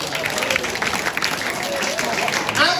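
Applause from the audience at a Balinese Calonarang performance in heavy rain, a dense steady wash of clapping lasting the whole moment, mixed with crowd noise and voices.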